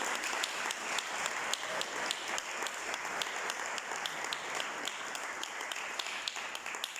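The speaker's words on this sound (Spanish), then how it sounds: "Denle un aplauso al Señor." A church congregation applauds steadily during a Spanish-language worship service, a sustained wash of clapping from a crowd heard at moderate distance.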